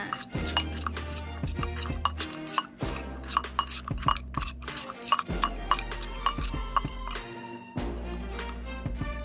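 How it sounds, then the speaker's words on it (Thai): A mixed seafood som tam papaya salad with tamarind juice and fish sauce is pounded in a mortar, giving repeated clattering knocks and clinks in an uneven rhythm over steady background music. "จากนั้นก็ตำตำยกยกไปจ้า"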